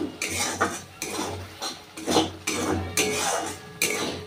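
A spoon scrapes and clanks against a pot while moong dal cooked with fish head is stirred, coming in repeated bursts roughly every half second, close and clear, with no talking.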